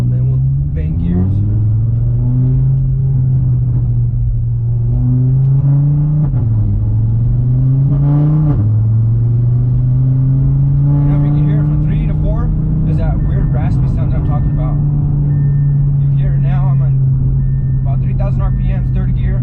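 An Audi RS3 stage 2 engine running on E85 drones and climbs in pitch, dropping abruptly at each manual gear change before rising again, loud and close, with speech over it.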